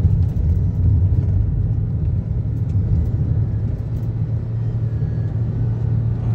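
Toyota Sienta with a CVT engine holding above 3000 RPM, a loud steady low rumble and drone heard close from inside the car, with no speech.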